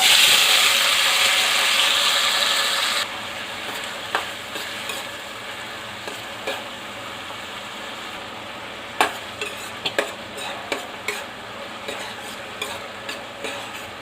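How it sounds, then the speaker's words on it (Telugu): Chopped onions tipped into hot oil, a loud bright sizzle that drops suddenly to a quieter frying hiss, followed by intermittent scraping clicks of stirring in the pan. "Oil heat ఎక్కిందండి. ఇప్పుడు ఉల్లిపాయ ముక్కలు వేసుకుందాం."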